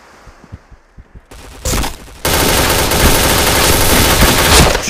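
Gunfire from the Point Blank online shooter game: a few scattered shots first, then a loud, dense burst of automatic weapon fire that keeps going without a break to the end.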